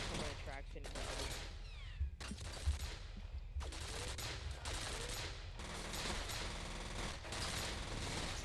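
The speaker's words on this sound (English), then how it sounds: "Sorry, I can't hear you over the gunfire." Dense, continuous bursts of rapid video game gunfire crackle throughout, loud and layered, with little pause between volleys.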